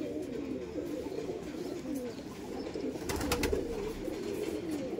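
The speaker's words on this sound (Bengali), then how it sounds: "এটা তামড়া লাল পায়রা।" Low, continuous cooing of Giribaj pigeons at a bustling pigeon market, a warm murmuring drone with a brief brighter rustle midway and no clear speech.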